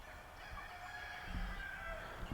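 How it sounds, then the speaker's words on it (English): Chickens cluck and call faintly on a farm, with several overlapping bird voices above a steady low background hum. "Nothing's even happening to that chicken."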